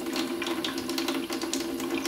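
Water is shaken inside a fountain pen cap, making a rapid, close, continuous rattling slosh over a steady watery background, with no voices.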